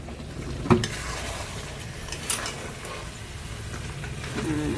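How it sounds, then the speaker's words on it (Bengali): Spice paste is stirred in a hot cooking pan, a continuous gentle sizzle with a couple of clear knocks and scrapes of the spoon against the pan, heard close and without talk. "নাড়ানো চাড়ানো হচ্ছে।"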